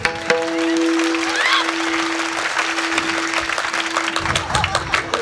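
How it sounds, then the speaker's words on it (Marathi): An audience claps steadily through a kirtan, while a sustained tone hums underneath; some voices and crowd noise rise near the end. "मामा ह्यांनी लई टाळ्या बाजवल्या."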